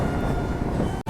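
A goods train crosses on the Rajkot–Kanalus double railway line, a loud, close, continuous rumble and rattle of wagons that cuts out abruptly for a moment near the end.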